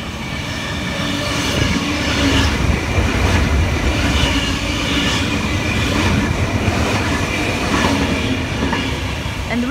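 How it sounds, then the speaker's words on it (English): A Sydney Tangara electric train passes platform 3 at Carlton station, a loud, steady rumble of wheels and motors that fills the whole stretch, with faint rhythmic clatter over the rails and no speech. "We have another Tangara passing platform 3."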